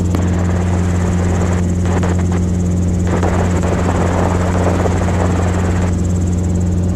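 A Robinson R22 helicopter in flight on a training flight near an airport, its rotor and engine giving a loud, steady, close drone with a constant buzzing hum that continues throughout, as heard from inside the cabin.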